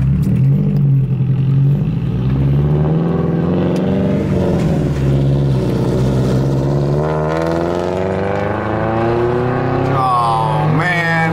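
A Subaru-style FRS sports car drifts on a wet road, its engine revving loudly and continuously with rising and falling pitch sweeps, close and sustained throughout.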